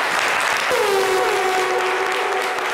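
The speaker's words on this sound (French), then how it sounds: "Applaudissements pour Chekina, s'il vous plaît." A studio audience on a French-language talk show applauds a guest named Chekina. The clapping is a dense, loud wash with a brief tonal sweep partway through, and no voices are heard over it.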